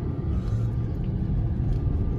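A car rolls along a road in Isparta, Turkey, its low engine rumble and tyre noise holding steady and close throughout, with no talking.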